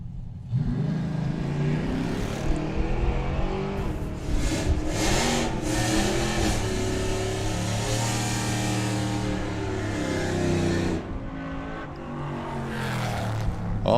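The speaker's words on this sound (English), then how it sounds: "Eva going first with the BMW and then Kirsty doing the chasing with the Camaro" A BMW and a Camaro launch down a drag strip one after the other, engines roaring and revving at a distance in a loud continuous rush with crowd ambience.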